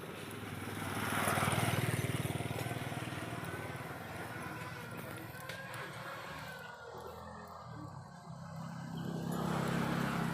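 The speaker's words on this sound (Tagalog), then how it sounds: "Yan po yung mga motor" Motorcycles rumble in an outdoor spot in La Union. A steady engine drone swells, eases off, then builds again as the bikes idle and move nearby.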